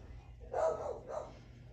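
Dogs barking in a crafting room during a card-making session: two brief, somewhat muffled bursts, apparently from another room, with no talking over them.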